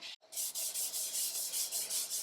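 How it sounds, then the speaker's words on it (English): The side of a piece of chalk is rubbed back and forth across a chalkboard made from a recycled picture, giving a rhythmic, dry, scratchy swishing of about a dozen even strokes, close and alone. "we take the side of a piece of chalk and we're going to rub it all over the surface where we're going to write"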